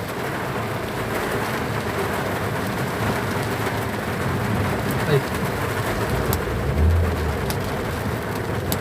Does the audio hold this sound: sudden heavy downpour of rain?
yes